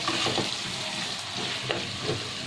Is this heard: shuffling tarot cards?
no